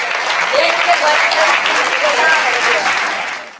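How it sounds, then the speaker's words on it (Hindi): Audience clapping at a comedy poetry show, dense sustained applause with voices underneath that fades toward the end. "आपकी तालियां कम है।"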